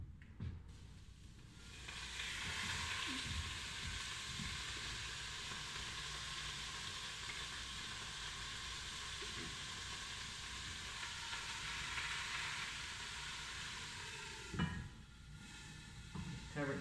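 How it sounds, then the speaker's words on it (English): Wild turkey leg and thigh searing in a hot pan, a steady loud sizzle and spatter that runs throughout with occasional clatter of handling. "I'm going to plop this in here, get a little sear action going on."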